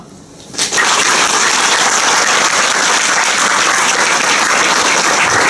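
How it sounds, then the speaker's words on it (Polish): After a brief quiet moment, an audience at a club's 15th anniversary jubilee breaks into loud, sustained applause that holds at full strength until the end. "I za to ogromne brawa."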